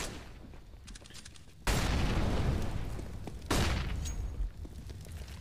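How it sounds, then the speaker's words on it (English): A flashbang grenade goes off in a CS:GO match on the Mirage map, two loud bursts of noise, each followed by a fading ringing decay, heard fairly faintly. "Nice flash coming in there for the peak to get Oscar off the angle"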